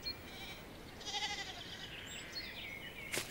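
Sheep bleat in a fruit orchard, a couple of moderately loud wavering calls over a soft outdoor background, with no talk.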